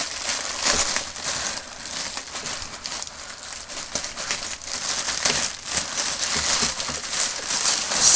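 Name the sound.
cutting open a plastic bag of vintage toys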